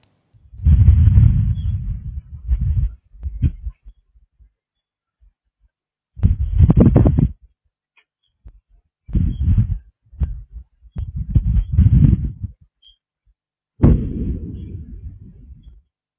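Heavy gunfire exchange at the Thai-Cambodian border near a durian orchard, picked up by a CCTV camera: several loud, distorted bursts of rapid shots in clusters separated by short silences, ending with a longer booming rumble.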